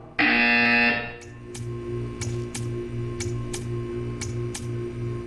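A loud, harsh buzzer in the video game Portal 2 blares for about a second, then gives way to a steady series of sharp ticking clicks over a low, pulsing electronic hum.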